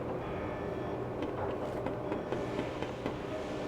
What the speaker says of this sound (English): I'll ride the tram to the tower.